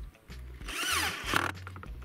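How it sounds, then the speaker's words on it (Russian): A cordless screwdriver drives self-tapping screws into a mounting plank for a fold-out fish-finder table on a PVC boat, giving a brief rising motor whine that lasts under a second, close and moderately loud. "Берем шуруповерт, отвертку."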